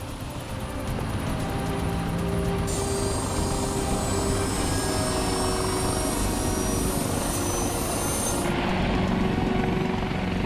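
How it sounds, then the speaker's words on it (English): A helicopter hovers over a highway crash scene involving a wrecked tractor-trailer, its steady, loud rotor and turbine roar filling the air without a break and with no voices. "With the chopper in the air"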